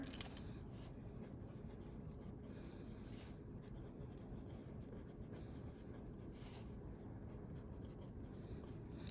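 Numbers are written out by hand on paper, likely with a pencil, making a steady close scratching and rubbing sound that runs continuously over a low background hiss, with no speech.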